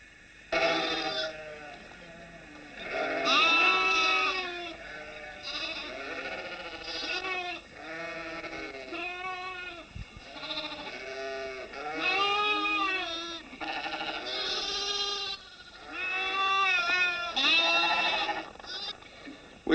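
A flock of sheep bleats repeatedly, several animals calling in overlapping, wavering bursts that follow one another closely, fairly loud and near, with no talk.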